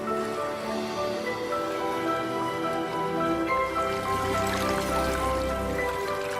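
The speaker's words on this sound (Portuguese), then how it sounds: "Este rio de areia se transforma em um fluxo surreal de água que dá vida." A river of water flows into the desert, a steady broad rush and trickle of moving water continuing evenly throughout, with no voices.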